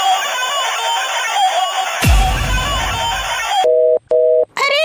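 A steady telephone dial tone hums, then a clatter as the handset is handled, followed by a few short beeps.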